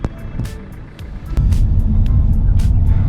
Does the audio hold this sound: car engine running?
yes